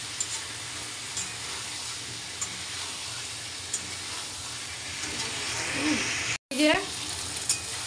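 Fish curry being sautéed in a pan, with a continuous close sizzle and hiss, occasional stirring scrapes, and a brief spoken remark near the end.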